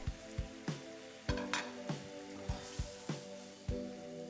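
Lemon juice and broth hit a hot pan for a classic vol-au-vent filling, bringing a soft sizzle with a series of regular knocking clatters, about a dozen evenly spaced, nearby and fairly quiet, with no talk.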